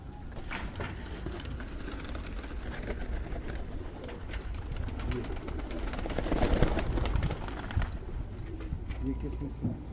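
Pigeons coo repeatedly at a hobbyist's flock in Quetta, close and steady over constant background noise and some voices.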